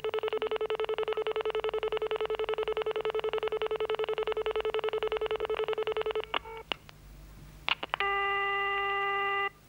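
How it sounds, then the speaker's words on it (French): A telephone number is tapped out as a rapid run of steady touch-tone beeps lasting several seconds, then a few clicks and a sustained ringing tone, close and loud with no voices. "J'appelle au hasard et tout de suite le 45 12 17 16."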